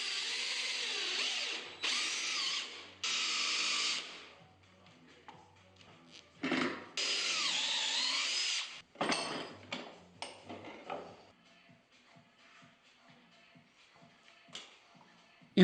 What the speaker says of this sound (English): drilled a dowel hole for just a little bit of extra strength